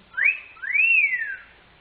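Two smooth, gliding whistle-like tones from an ondes Martenot imitating whistling, the first short and rising, the second longer, swelling and falling slowly, played alone and clearly.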